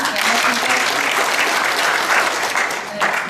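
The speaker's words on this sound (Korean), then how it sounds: "이해득 교수님 박수로 맞아주시기 바랍니다." An audience at a national anti-corruption integrity ceremony applauds loudly to welcome a professor to the stage. The clapping is dense and continuous, with slight swells in intensity.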